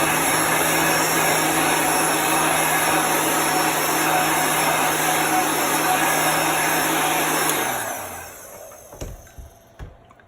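Hair dryer blowing to dry chalk paint on a parked trailer, a loud steady whirring roar that runs for about eight seconds, then winds down and stops, followed by a few small clicks.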